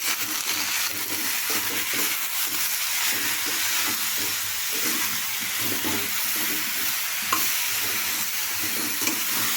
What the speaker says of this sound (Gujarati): હળદર એડ કરીશું મીઠું એડ કરીશું મિક્સ કરી લઈશું